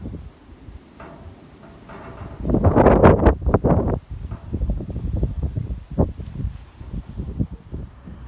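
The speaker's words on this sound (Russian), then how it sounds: "Слышите, какой у нас сегодня ветер?" Strong wind gusts outdoors in a small town on a wintry day, roaring and buffeting the microphone in uneven surges, loudest in a long blast midway, with no talk over it.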